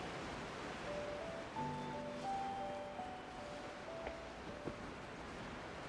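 Gentle beach surf in the Genshin Impact video game, a steady wash of waves on a shore between waterfalls, with soft tonal game music notes drifting faintly over the continuous hiss.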